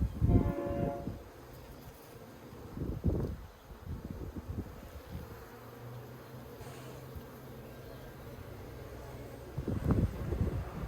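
Honey bees covering a frame pulled from an Australian hive give off a faint, steady drone, broken by a few louder bumps and handling knocks near the start and end.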